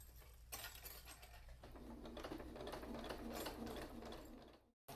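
A sewing machine runs steadily up close, stitching a dog potty-training bell strap in one continuous mechanical whir that cuts off abruptly just before the end.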